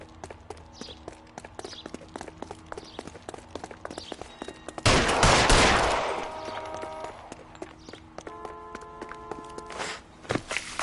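A single loud burst of gunfire in LA Noire, a sharp broadband blast that rings out briefly, set among scattered quieter impacts and footstep-like taps with faint game ambience.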